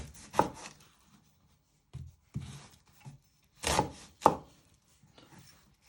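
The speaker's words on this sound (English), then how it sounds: "Then you're going to chop the other ends off." A knife chops through a vegetable on a cutting board for a smoked haddock chowder, sounding as a handful of separate sharp cuts and thuds with quiet gaps between them.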